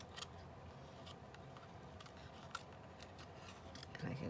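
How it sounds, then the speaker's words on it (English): Scissors snip through paper trims for a junk journal, producing faint, scattered clicks and cuts at close range over a steady low background hiss. "Just a little bit of random trims."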